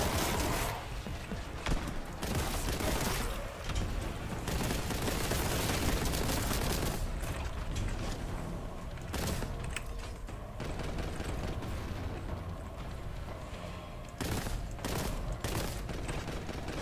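Heavy stubbers firing in the video game Boltgun, dense bursts of rapid gunfire that come in loud clusters with short gaps and mechanical clanks between them.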